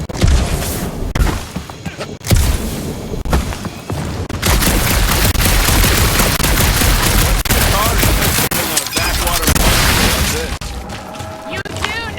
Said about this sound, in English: aimless shooting isn't gonna scare the monsters away